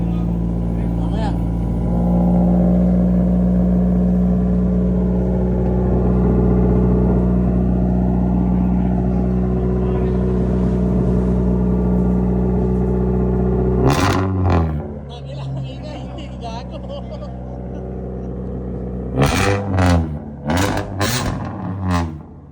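Toyota 4A-GE 16-valve engine with a straight-pipe exhaust, a steady loud idle drone for about fourteen seconds, then sharp bursts of throttle revving with a few more quick blips near the end.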